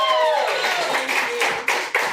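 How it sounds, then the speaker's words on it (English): Brief, moderate applause from an audience at a book launch in Los Angeles for poet Lynne Thompson, fading into a few last distinct claps. "Another round of applause for Lynne"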